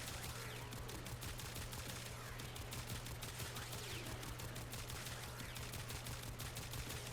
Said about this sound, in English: So you're using the first auto fire, doing pretty good damage.